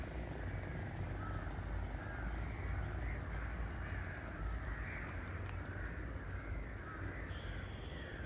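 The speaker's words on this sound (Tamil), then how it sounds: "எவ்வளோ பறவைகள் பீச்சை வட்டமிட்டுருக்குன்னுட்டு." Crows caw repeatedly over Elliot's Beach in Besant Nagar at sunrise, faint calls scattered above a steady low rumble of surf and ambient noise.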